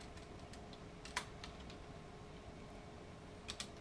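Soft, scattered keystrokes on a computer keyboard as a command is typed, a few faint clicks with two sharper taps standing out over a quiet hum, no voices.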